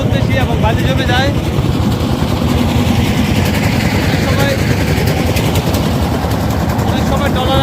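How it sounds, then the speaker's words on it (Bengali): A trawler boat's engine drones loud and steady as it moves slowly upriver through shallow, sandy water, a constant low rumble that fills the whole stretch. "সেই জন্য ট্রলার খুব স্লো, ধীরে ধীরে চলতেছে"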